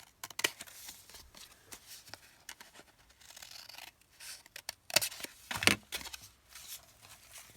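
Scissors trim paper for a handmade mini journal built from digital prints, giving a run of close, quiet snips and rustles. A couple of sharper cuts stand out near the end, and no one speaks.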